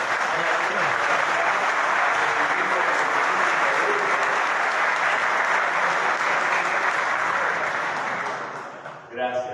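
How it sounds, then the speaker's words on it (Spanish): Sustained applause from a crowd welcoming ladies at a church gathering, a dense, even roar of clapping lasting several seconds before tapering off, with a short burst of speech at the end. "vamos a dar un aplauso a las damas"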